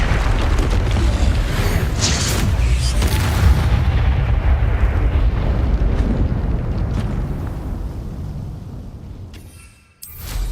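Explosive spells cast in the video game Hogwarts Legacy: a loud, continuous booming rumble of blasts that slowly fades toward the end, cut by a brief near-silence before sound returns.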